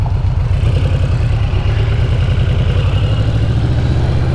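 Yamaha VMAX 1700 motorcycle engine idling on a street in Prattville, Alabama, a steady, loud, close low throb with even rhythmic pulses and no talk.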